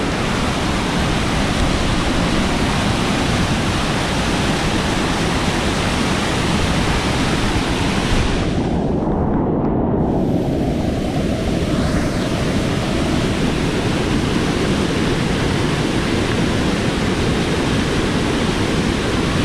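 Floodwater roars in a constant, loud, dense rush as it sweeps over a bridge, unbroken for the whole stretch with no voices.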